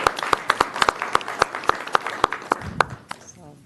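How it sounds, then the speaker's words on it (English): Applause from a group at a South Haven, Michigan city council meeting, with distinct sharp claps standing out, fading near the end as a voice begins. "I want to give a big round of applause for Mom"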